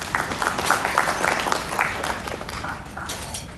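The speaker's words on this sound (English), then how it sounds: "Give us a big clap for these guys." An event audience claps steadily for presenters, a continuous patter of hands at moderate level that slowly thins toward the end, with a faint voice underneath.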